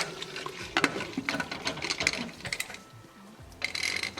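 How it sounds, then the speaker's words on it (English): A pressure cooker lid is set on and locked over goat curry cooking on a gas stove, giving a run of close metallic clicks, clatters and ratcheting scrapes. "Cover with the lid."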